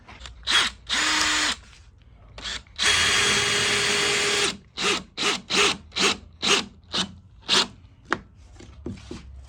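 A power drill drives screws into a plywood floor during a camper van conversion: two long whirring runs, then a string of short, evenly spaced bursts, loud and close with no talk.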